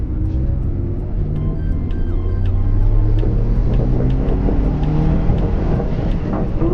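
A Lancia Delta Integrale 16v engine pulls hard under acceleration, a loud close rumble with rising engine tones and a steady low drone throughout.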